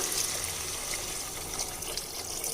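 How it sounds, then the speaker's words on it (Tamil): Water pours steadily into a cooking pot of sautéed vegetables, tomato and onion for a bottle gourd and cowpea rice dish, a continuous close trickling splash with no talk. "இப்போ தேவையான தண்ணி விட்டுக்கலாம்"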